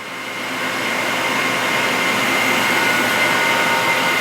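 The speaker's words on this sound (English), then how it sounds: "We got our other mill over here. It's currently setting up to run steering stems for our Gen 3 Pros." Milling machine in a motocross parts shop, set up to cut steering stems, a loud steady whirring roar that rises in the first half second and then holds evenly, alone with no talk.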